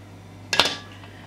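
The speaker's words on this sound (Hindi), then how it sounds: "प्रेशर कुकर को बंद कर देते हैं, ठीक है। इस पर वेट रखेंगे" A pressure cooker is closed and its weight set on top, giving a single sharp metallic clink with a quick rattle, close by in a quiet home kitchen while dal cooks.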